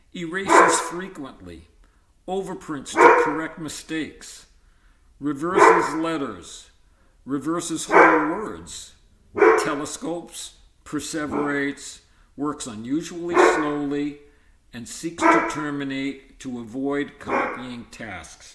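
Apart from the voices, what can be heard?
dog barking in background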